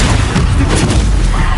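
Bombarda spell explosions in the game Hogwarts Legacy, a loud sustained booming blast with dense low rumble and crackling debris throughout, no talk over it.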